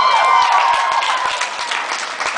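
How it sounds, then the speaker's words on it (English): Convention panel audience at NJCon 2012 applauding, a dense wash of many hands clapping at once, fairly close and steady, slowly thinning out over a couple of seconds. "there was like this clapping stuff that just happened"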